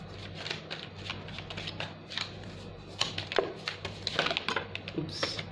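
Tarot cards shuffled by hand in a quiet room, a run of soft riffling bursts and flicks close by, irregular and growing a little busier toward the end, with no voice over them.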